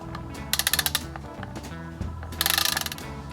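A ratchet wrench tightening bolts on an oil cooler assembly, two quick runs of crisp clicking pawl ticks, close and distinct over a soft background hum.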